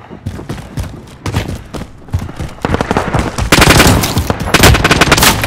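Loud, dense automatic gunfire from Call of Duty: Warzone, continuous rattling bursts with thumps and impacts building in intensity throughout, close and without talk.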